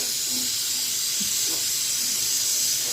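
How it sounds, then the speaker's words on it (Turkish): Food sautéing in a pan until browned gives a steady, even hiss of sizzling steam, with faint clinks and scrapes underneath and no talk. "Bunu böyle güzelce pembeleşince kadar kavuracağım."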